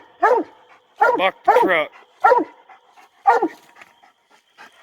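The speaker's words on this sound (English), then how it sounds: "just listen what a jaw on a dog" A hunting dog bawls during a night raccoon hunt in Ohio, giving a steady series of loud, close, drawn-out barks spaced about a second apart, with someone speaking briefly.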